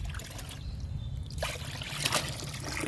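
Kitchen-waste liquid fertilizer poured onto a ridge gourd plant after rain, a steady close trickle and splash of liquid onto soil and leaves running throughout, with a slightly stronger gush near the middle.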